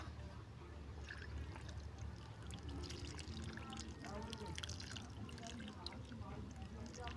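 Water poured onto a newly planted seedling, a soft steady trickle and splash running throughout at low level.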